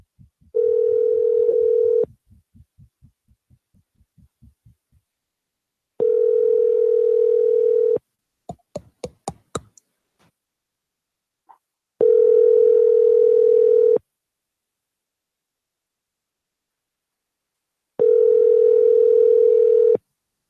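Telephone call ringing through on the line, four long electronic ring tones spaced evenly apart, with a brief burst of keypad tones between the first two.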